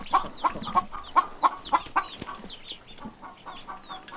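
Six-week-old homestead chicks cluck in a quick series of short, bright calls, about eight close notes in the first two seconds, then softer scattered peeps trailing off.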